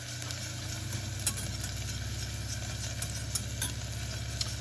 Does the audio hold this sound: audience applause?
no